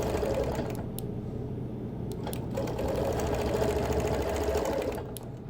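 Close, steady whir of a sewing machine quilting a quilt, stitching in continuous runs with brief pauses between them, no voices.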